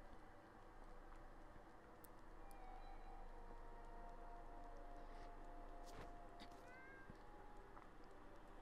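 Faint cat meows from the video game Gravity Rush rise a few times over a low, steady game background hum, quiet and distant-sounding, with no speech.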